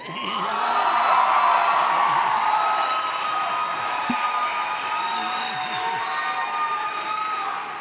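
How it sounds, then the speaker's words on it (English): An audience applauds at a university winter commencement ceremony, with sustained clapping across a large hall that peaks early and gradually eases while staying loud throughout. "Just another cheap attempt at applause"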